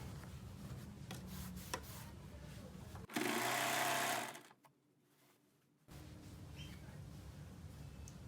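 Sewing machine stitching the back section of a pair of trousers, one loud whirring burst of about a second and a half, then a pause between quieter fabric handling.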